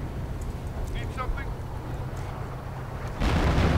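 Artillery fire in a World War II strategy game booms and crackles under a commentator's steady talk, ending in a sudden loud, sustained blast.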